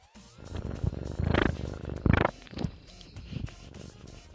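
A house cat purrs in a run of rough, breathy pulses with a few louder swells. It sounds close, with no one talking over it.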